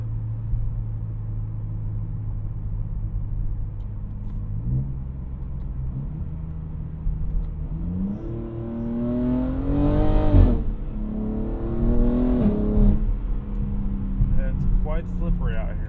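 BMW G80 M3 Competition driven on a slippery road with its exhaust valves open; a steady low engine drone swells into loud rising revs and climbing exhaust tones near the middle, then settles into a throaty, varying roar.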